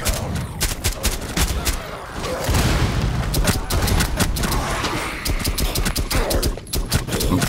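Explosions and gunfire from a grenade thrown in the Rainbow Six Siege Outbreak zombies mode, dense booms and shots running throughout with no pause.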